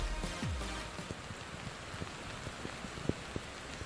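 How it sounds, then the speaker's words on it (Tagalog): Heavy rain falls in Kawit, Cavite on a Saturday afternoon amid flooding, a steady broadband wash with scattered sharper drops and knocks, fairly close and continuous with no talk. "tuloy-tuloy yung nararanasang manakanakang malakas na buhos ng ulan dito nga sa Kawit, Cavite ngayong Sabado ng hapon"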